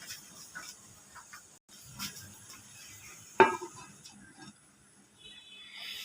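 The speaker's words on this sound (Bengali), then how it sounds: "এখন কিছুক্ষণের জন্য ঢাকনা রেখে দেব।" A metal lid set onto a cooking pot, one sharp clink standing out from faint kitchen rustling and soft handling sounds.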